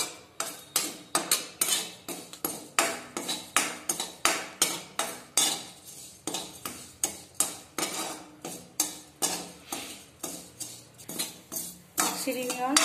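Spoon or spatula scraping and clinking in a pan while sweet vermicelli roasts, steady rhythmic strokes repeating about twice a second, fairly close and moderately loud with no voices heard.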